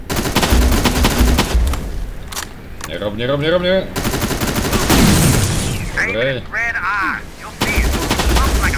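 Gunshots in the Terminator Resistance video game, with rapid bursts of automatic fire and single loud shots mixed with other game effects and electronic warbling. Two people speak briefly over the action.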